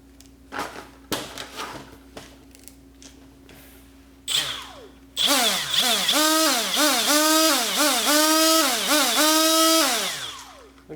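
A cordless Milwaukee M12 FUEL right angle die grinder, fresh from the box, whines as it is triggered on and off repeatedly, its motor pitch rising and falling in quick surges after a few handling clicks.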